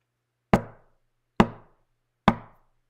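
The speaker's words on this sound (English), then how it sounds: "He heard three knocks." Three sharp knocks on a door sound one at a time, evenly spaced about a second apart, each crisp and dry in an otherwise silent space.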